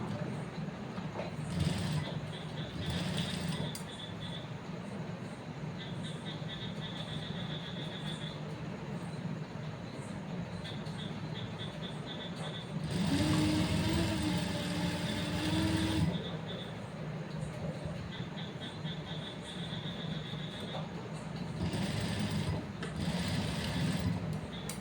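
A sewing machine stitches a blouse hem, running in short bursts of mechanical whirring and clatter with a longer run in the middle, set against a quiet room hum.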